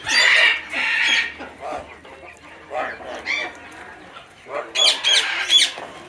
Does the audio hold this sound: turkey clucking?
yes